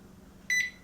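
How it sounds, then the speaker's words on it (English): A ChefsTemp ProTemp Plus wireless meat thermometer alarm sounds a short, bright electronic beep pair, clear and close over a quiet room hum, with no talking. "The alarm is going off."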